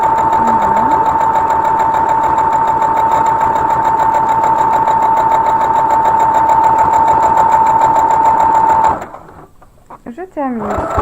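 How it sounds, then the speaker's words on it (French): A sewing machine stitches a seam at a fast, even whir that runs close and loud for about nine seconds, then stops, leaving a few soft handling noises. "Je termine sur ma couture, un petit point d'arrêt."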